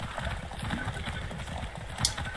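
Horse hooves clip-clop in the video game Far Cry 6, a steady mid-paced rhythm of dull thuds under a layer of game ambience, moderately loud throughout.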